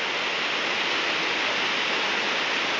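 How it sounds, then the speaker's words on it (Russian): The waterfall at Lake Glubokoye gives a steady, dense rushing roar, close and loud, with no pauses or other sounds. "Вот такой вот он водопад."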